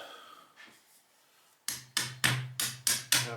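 Metal parts of a Cessna hydraulic valve from a Timberjack 360 skidder being tapped into place during a rebuild: after a quiet start, six sharp, evenly spaced hammer taps ring out close and loud.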